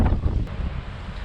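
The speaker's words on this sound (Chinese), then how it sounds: "今天风感觉特别大" Strong gusting wind on a rocky seashore during a typhoon, buffeting the microphone with a rough, heavy low rumble, close and continuous with no voices.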